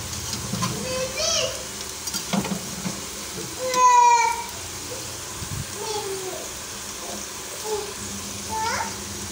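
Potatoes frying in a pan at home, a steady soft sizzle under someone talking, with occasional stirring scrapes and brief clinks of the utensil.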